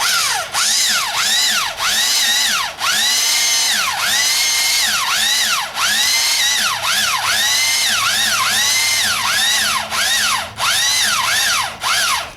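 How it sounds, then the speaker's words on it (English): A power drill whines in repeated bursts, its pitch rising and falling as the trigger is squeezed and released, loud and close with brief pauses between. "Well, you can use the drill, it's much cheaper"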